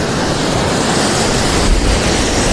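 Waves keep surging and crashing into a flooded river during heavy rain, a loud, dense, unbroken roar of rushing water, with wind buffeting the microphone and no talking.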